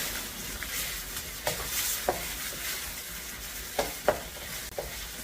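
Minced pork being stirred and broken up in coconut curry in a pan, a soft steady sizzle with several distinct scraping knocks of a utensil against the pan at irregular intervals, no talking.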